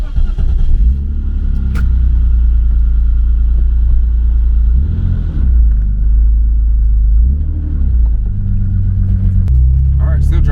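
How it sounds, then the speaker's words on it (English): A drift car on a short test drive after a ball joint repair, its engine rumbling loud and close with a few swells as it accelerates, while a person talks over the steady drone. "I'll have to take it for a quick test drive and make sure everything still feels normal."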